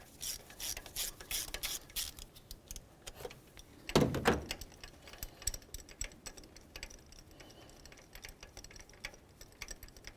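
A ratchet fitted with a 9/16 spark plug socket clicks in quick bursts of rapid ticks while loosening a spark plug on a 2007-12 Nissan Sentra, with a louder clunk near the middle and nearby handling noises, no voices.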